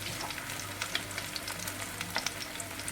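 Chicken leg pieces fry in a pan on low to medium flame, giving a steady, close crackling sizzle with scattered pops throughout, without talking.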